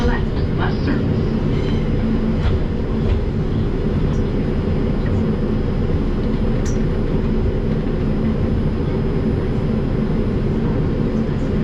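Interior ride on an R142 subway train running as a 5 express in New York: a loud, constant rumble and rattle of wheels on track fills the car throughout, with faint squeals and clicks on top.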